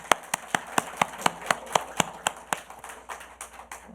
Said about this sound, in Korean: 5개 다 펴보세요. 박수.